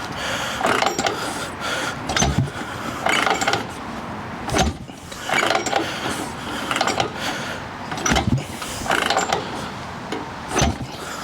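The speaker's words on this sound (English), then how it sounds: "5 kicks through, throttle closed, enrichener, just the enrichener." A Harley Ironhead engine on a girder-fork long chopper is kicked over by foot with the throttle closed and only the enrichener on. About five loud, close mechanical kick-through bursts sound at uneven intervals, and the engine never catches.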